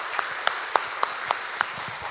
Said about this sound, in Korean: 우리 그리스도의 이름으로 축복하며 축하의 박수 보내주시면 감사하겠습니다